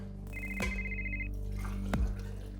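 A telephone rings once, giving a bright electronic trill for about a second over a low steady background hum.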